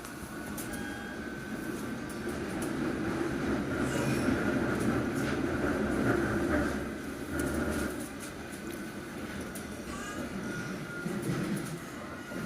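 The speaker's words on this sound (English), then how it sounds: "train over there is a Circle Line train via Liverpool Street" A London Underground Circle Line train rumbles steadily through a station near Aldgate East, with low broadband roar and faint wheel squeal across the whole stretch, a slight dip midway and no voices.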